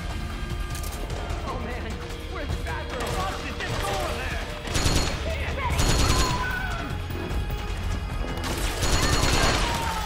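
Rapid bursts of AK rifle fire crackle in Metal Gear Solid 4, mixed with loud impacts and booming blasts, several heavier surges spread across a dense battle din, with voices talking over parts of it.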